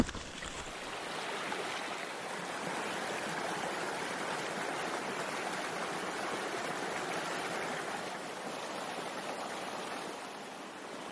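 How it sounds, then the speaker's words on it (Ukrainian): Rushing river water churns continuously over rapids on a wild river, a broad steady roar of flowing current with no voices, fairly close and even in loudness. "дуже така незвична річка. З порогами навіть, такими специфічними. Така дика течія."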